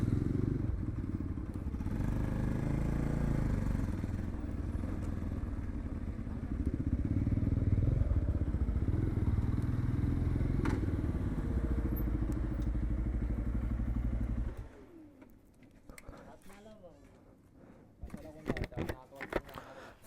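A Bajaj NS200 motorcycle engine idles with a low, steady rumble under people talking at night in Mumbai, then shuts off, leaving scattered clatter and thumps.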